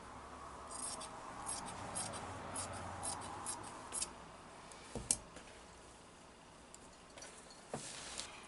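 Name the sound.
scissors cutting folded edges of flannel fabric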